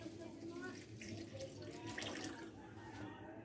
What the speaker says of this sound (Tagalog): Higit tayong tubig para pampalambot sa ating karne ng baboy.